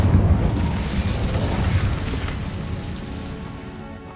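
An Incendio fire spell goes off in Hogwarts Legacy, a heavy close whoosh and boom that rumbles loudly and then fades gradually over several seconds.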